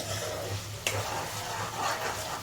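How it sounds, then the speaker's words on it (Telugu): Onions frying in a pan for stuffed brinjal curry give a continuous, even hiss up close, with one brief clink near the start and no voices over it. "ఈ ఆనియన్ అనేది కొంచెం వేగిన తర్వాత"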